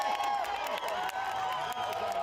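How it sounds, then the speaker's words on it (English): A crowd of supporters applauds and cheers as Beto O'Rourke, a gubernatorial candidate, arrives at a Corpus Christi event; steady clapping with scattered whoops, moderately distant, with voices mixed in. "O'Rourke was greeted with applause and handshakes as he made his way to the stage"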